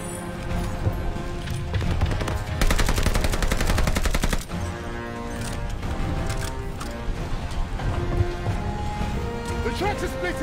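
Sustained automatic gunfire in the Call of Duty Vanguard video game rattles in dense, loud bursts with booming shots throughout, mixed with shouting voices in the battle.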